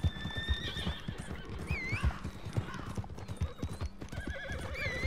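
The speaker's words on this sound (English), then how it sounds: "My horse is taking forever to get here." Hooves clip-clopping steadily from a horse in a video game, with whinnies and game music underneath, fairly close and continuous.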